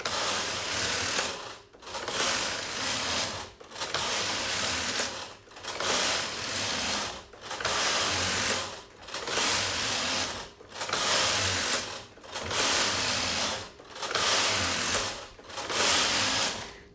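A single-bed knitting machine knits a tuck stitch pattern. The carriage makes a steady mechanical rattling whir on each pass, with short pauses between passes about every two seconds, close and alone.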